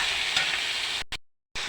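Goat offal and spices being stirred in a hot pan, a steady close scraping and sizzling that runs continuously before cutting off abruptly near the end.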